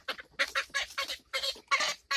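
Chickens cluck in a run of short, close bursts, with a hen's clucks coming in quick bunches separated by brief pauses and no talking underneath.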